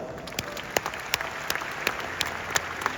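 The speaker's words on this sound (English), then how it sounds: "Give yourself a round of applause." Scattered clapping from seminar attendees at an organizational training talk: sparse, distinct hand claps at an uneven pace over a thin, continuous background hiss, with no voices.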